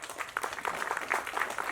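Audience applause during a Tamil speech event, a steady wash of clapping from a crowd heard at moderate distance, with faint voices mixed in.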